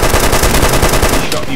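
Loud, close gunfire from a gun in the video game DayZ, a fast run of sharp shots firing back to back and cutting off near the end.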